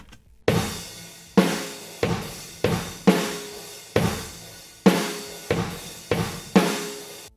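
A drum kit plays a steady rock groove, heavy kick and snare hits ringing with a roomy, distant ambience, no voices.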